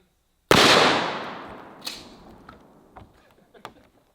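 A single loud, sharp blast from a Mossberg Shockwave 590S shotgun fired at a bulletproof vest, close by, followed by a few faint clicks and knocks as the sound fades.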